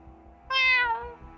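A cat's meow in the video game Fatal Twelve, a single clear, fairly loud cry of about a second rising over a soft, steady game-music background.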